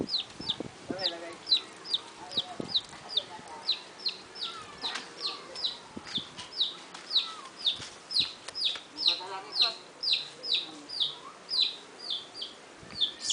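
Chickens cluck and chicks peep in rapid, repeated bursts that run throughout, close by, with a quiet voice briefly speaking in the background.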